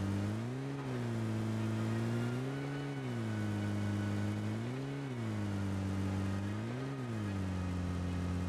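Car engine in the video game PUBG Mobile on the Erangel map, a loud, close, continuous drone that rises and falls in pitch several times as the vehicle drives off and accelerates, with no talk over it.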